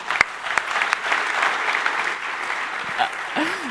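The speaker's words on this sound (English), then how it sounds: "And a big applause for Adrian." Crowd applause at a Swiss startup award event, loud sustained clapping with a few sharper claps standing out. A faint voice comes in near the end.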